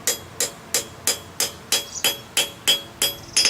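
A hammer planishes the head of a forged steel compass, striking about ten sharp, evenly spaced ringing blows close by.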